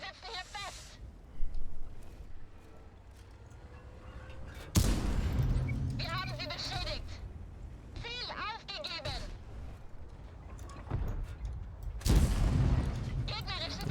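Tank cannon shots from the video game World of Tanks, with two sharp, loud blasts several seconds apart over engine rumble and game noise, while people talk throughout.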